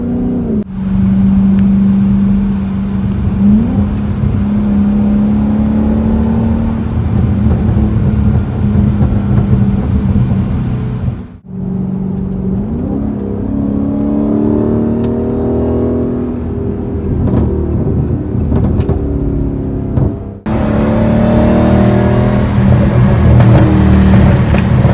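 Supercharged 707-horsepower Dodge Hellcat, a Charger or Challenger, with a loud, deep, continuous exhaust drone up close, shifting in tone and briefly dipping twice as the engine is worked.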